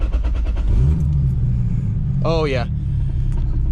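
A Toyota Supra's 2JZ engine running on E85 fires up and settles into a steady, low, rumbling idle, with a voice briefly over it.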